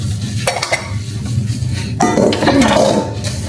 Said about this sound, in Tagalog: Para sa akin, feeling ko mas malinis pa nga pag ganito yung paghugas ng pinggan.